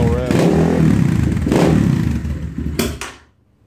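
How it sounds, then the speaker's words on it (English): A warmed-up SSR 189 pit bike engine revs up loudly and close by, holding a rough, steady roar before dropping off with a couple of clanks and fading to quiet. "But give it a little rev."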